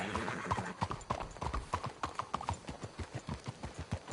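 Horse hooves clip-clopping at a steady walking rhythm in the Red Dead Redemption 2 video game, a close, clear series of hoofbeats with no talk over them.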